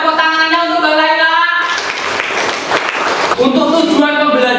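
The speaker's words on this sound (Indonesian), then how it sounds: "Boleh tepuk tangannya untuk Mbak Laila." A burst of classroom applause for a student breaks out in the middle, dense clapping that rises over a speaking voice and then gives way as talking resumes.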